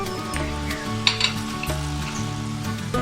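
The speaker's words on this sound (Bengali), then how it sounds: "দিলাম টমেটো সস দিয়ে আমি খুব ভালোভাবে মশলাটা একবার কষাচ্ছি।" Spices with ginger paste, turmeric and onion sizzle in a pan for a fish-head curry, a steady frying crackle with a few stirring scrapes and clinks.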